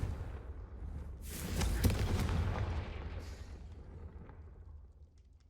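A Confringo blasting spell bursts against candelabras in Hogwarts Legacy, a loud booming blast swelling at about two seconds, then a long rumbling decay that fades into low background hum.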